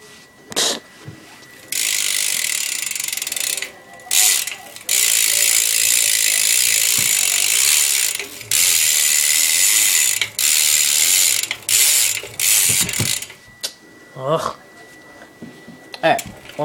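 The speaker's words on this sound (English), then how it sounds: "here's my hub sound" Redline BMX bike with a freewheel hub, its ratchet pawls buzzing in long, loud clicking bursts as the wheel spins, broken by short pauses and a few quieter gaps.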